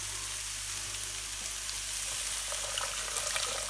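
Steady hissing and bubbling as boiling water is poured over rice in a pan, a continuous sizzling wash with faint clinks near the end.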